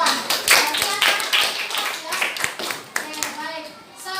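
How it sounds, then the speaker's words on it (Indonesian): Fourth-grade schoolchildren in a primary school classroom clap their hands in loose bursts of sharp claps, close and lively, mixed with children's voices. "Tepuk tangan untuk kita semua."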